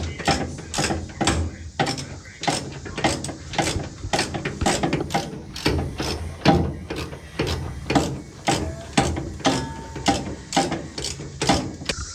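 A ratchet clicks in steady, close, repeated bursts while the last bolt is tightened on a 1968 Dodge Charger 440 engine with an industrial block. The loud rhythmic clicking runs the whole time and no one speaks.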